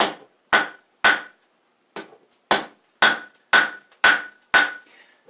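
Hot steel is hammer-forged on an anvil into a teardrop-shaped punch, nine sharp, ringing metallic blows struck at a steady rhythm, each with a brief ring and a short pause between, close and loud with no talking.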